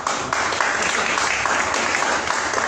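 An audience at a rally marking the anniversary of the 1973 general strike gives a dense burst of applause that holds steady and close for the whole moment.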